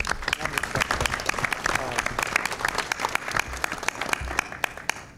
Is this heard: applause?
yes